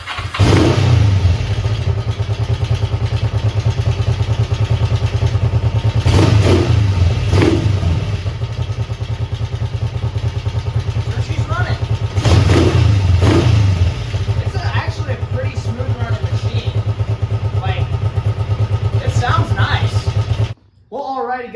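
A Kawasaki 454 motorcycle engine running at a steady idle, with several sharp revs rising and falling over the top, close and loud, cutting out briefly near the end.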